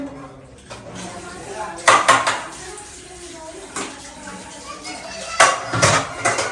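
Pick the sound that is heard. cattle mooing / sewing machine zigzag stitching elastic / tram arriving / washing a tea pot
washing a tea pot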